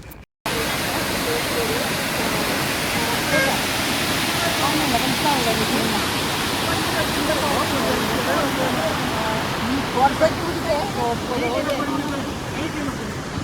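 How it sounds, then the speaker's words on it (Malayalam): Water rushes out of the opened shutters of Kundala Dam in a loud, steady, broadband roar that starts abruptly and continues unbroken. "ഡാമിൽ നിന്ന് ഇങ്ങനെ ഷട്ടർ തുറന്ന് വെള്ളം പോണത് ഞാൻ അങ്ങനെ കണ്ടിട്ടുണ്ടായിരുന്നില്ല ഇതുവരെ"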